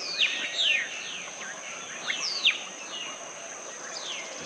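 Several birds chirp and whistle in quick descending calls against a steady insect-like drone in the Belize jungle in the morning, calls coming in bursts near and farther off.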